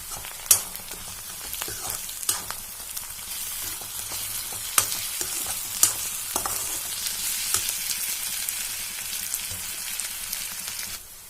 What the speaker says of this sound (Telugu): అల్లం వెల్లుల్లి పేస్ట్ వేసి బాగా వేయించాలి.